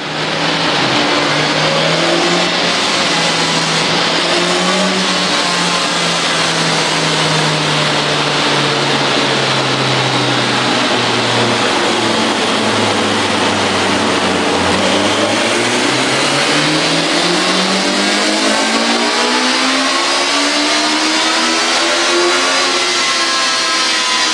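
A BMW K1200S motorcycle engine revs loudly and continuously, its pitch climbing, dipping low mid-way, then rising again over about twenty seconds.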